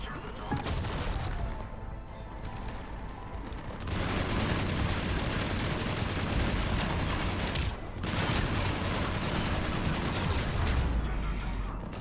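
Heavy cannon fire and battle explosions from the Mass Effect 3 video game roar continuously, with dense rumbling blasts that briefly drop out and then return at full strength.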